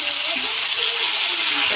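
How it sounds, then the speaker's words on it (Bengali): Onion and taro leaves fry and get stirred in a pan, producing a loud, continuous close-up sizzle with soft stirring movement beneath it. "দিয়ে ভালোভাবে নেড়ে চেড়ে ভাজা করতে হবে।"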